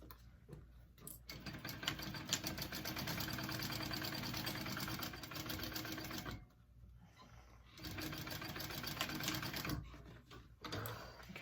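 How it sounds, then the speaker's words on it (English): A sewing machine stitching handbag pieces at a 3/8 seam allowance, its fast, even mechanical ticking running in long bursts that stop briefly and restart, close and fairly quiet, with no voices. "we're gonna sew those onto our bottom piece at a 3/8 seam allowance"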